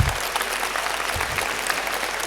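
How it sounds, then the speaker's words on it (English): A lecture audience at a university premier lecture applauds steadily, a dense, even wash of clapping from many hands that holds its level throughout. "Give me a round of applause, please"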